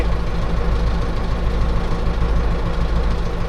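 A tractor engine drones throughout in a field, low and rumbling with a slightly knocking idle, continuous and fairly loud with no voices.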